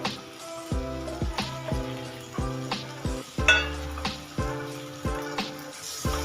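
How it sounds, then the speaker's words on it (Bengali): Fried eggs stirred through a spicy onion masala for a spring onion and egg curry, with loud, close sizzling and a regular clatter of a spoon scraping the pan about once a second. "দু মিনিট নাড়াচাড়া করে নেব"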